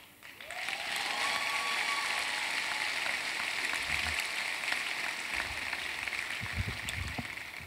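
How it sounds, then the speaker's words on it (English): A ceremony audience applauds at a leadership badge presentation, many hands clapping in a dense, sustained wash that swells in quickly and holds steady, with faint voices and a brief tone in the background. "You liked the clapping just now when you came up, correct?"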